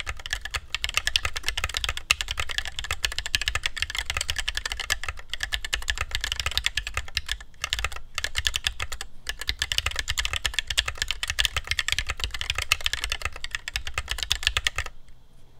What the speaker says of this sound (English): we're ready for a typing test because this is a keyboard video